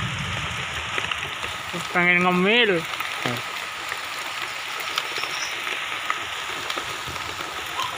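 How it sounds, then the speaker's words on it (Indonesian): Steady rain patters and hisses on surfaces throughout, with a person speaking briefly over it. "Kalau hujan-hujan kayak gini,"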